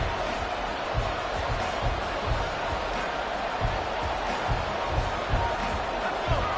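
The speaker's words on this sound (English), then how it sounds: "That just means this crowd's going to get even louder" A stadium crowd at an NFL football game roars in a loud, sustained wash of cheering and noise, with faint rhythmic thumps underneath.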